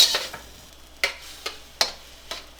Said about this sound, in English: You don't want to stop stirring. So keep doing this.